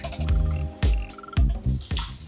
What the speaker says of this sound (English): And just whisk this up.